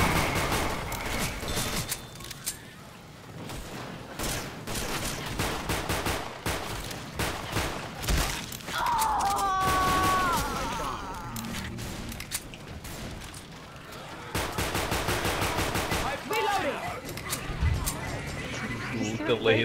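Video game gunfire and shotgun blasts in Left 4 Dead 2, repeated bursts mixed with game effects while players talk over them throughout.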